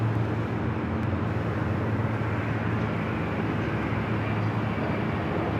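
A KLM Boeing 787-9 Dreamliner at LAX makes a steady, loud jet roar that fills the air without a break for several seconds.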